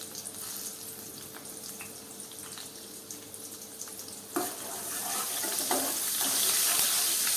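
Garlic, green chili and asafoetida go into hot tempering oil for a drumstick and potato curry. A soft crackle swells into a louder, brighter sizzle partway through and keeps building.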